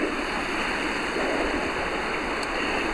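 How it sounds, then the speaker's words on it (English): Water of Barnum Creek rushes in a steady, broadband roar, close and loud, with no voices and an even, unbroken flow throughout. "Show you Barnum Creek."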